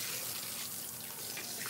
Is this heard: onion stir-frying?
no